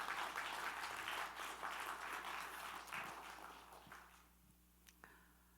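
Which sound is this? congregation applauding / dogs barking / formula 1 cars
congregation applauding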